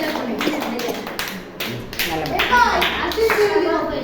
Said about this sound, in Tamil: கைதட்டு பார்க்கலாம்.